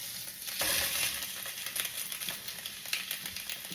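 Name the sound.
sous vide pork chops searing in a hot pan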